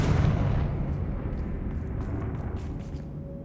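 A Confringo spell blast in Hogwarts Legacy lands as one loud, deep explosive boom, then rolls into a sustained rumbling roar with faint crackling debris on top.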